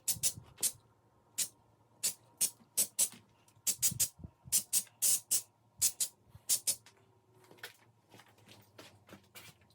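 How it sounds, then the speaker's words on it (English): Repeated short bursts of hissing from an aerosol can spraying paint on Toyota Tacoma wheels, some quick and some held longer, in an irregular rhythm close by. "I'm not so good with a spray can"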